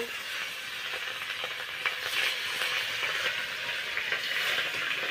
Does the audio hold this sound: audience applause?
no